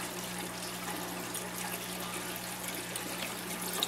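Water trickles steadily from a drip irrigation line on a 1-inch PVC pipe into the tubes of a nutrient film technique hydroponic system, a faint continuous splash over a low pump hum.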